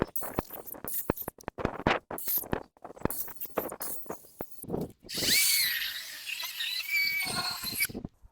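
A chainsaw cuts up trees left behind by the hydro utility in a forest, first with choppy bursts and then a sustained high whining rev near the end.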